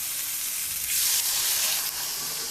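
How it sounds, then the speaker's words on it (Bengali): Thinly sliced potatoes fry in hot oil with a steady, close, loud sizzle and hiss that swells briefly midway, with no voices over it. "আলু কিন্তু অনেকটাই ভাজা হয়ে গেছে"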